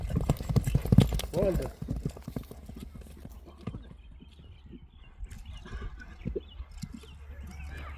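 Hooves of an agile horse clip-clop in a quick, uneven rhythm, loudest early and then lighter, while people talk over the hoofbeats.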